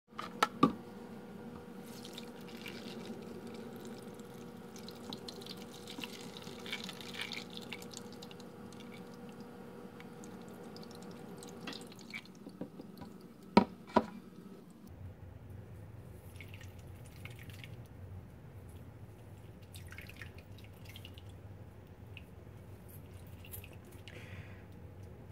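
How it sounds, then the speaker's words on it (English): Homemade almond milk pours onto cheesecloth and drains through the strainer, a steady close trickle of liquid with a few sharp drips and splashes, then a softer, lower running flow in the second half, with no talk. "So I'll just pour that on top of the cheesecloth, let it run through"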